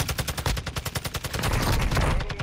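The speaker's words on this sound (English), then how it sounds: "Bullets overhead." Rapid automatic gunfire in a Call of Duty video game, a fast, evenly spaced stream of loud shots that runs together into a continuous roar toward the end.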